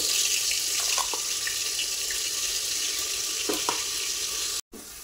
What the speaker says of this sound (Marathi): तर आता आपण 1-2 मिनिटं वाटण चांगलं परतून घेऊया तेलामध्ये।